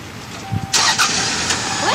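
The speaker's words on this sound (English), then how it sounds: "He got his car started somehow!" A car engine cranks and catches at once, then settles into a steady, fairly loud run for the remaining second or so, with a brief voice sounding just before it starts.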